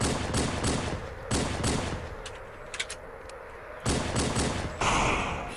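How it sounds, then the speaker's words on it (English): Pistol shots in Halo CE SPV3 on Noble difficulty, several loud cracks and bursts mixed with other battle gunfire and booming noise, some shots close together and others spaced apart. "let's try a new style pistol"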